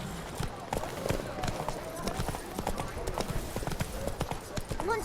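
Geralt's horse Roach gallops in The Witcher 3, a fast, continuous drumming of hoofbeats close by, with a voice speaking over the running.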